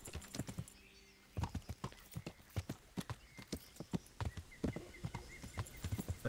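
Horse galloping in Kingdom Come Deliverance, hooves pounding in a fast, uneven clip-clop rhythm that starts after a short pause and stays fairly close and clear.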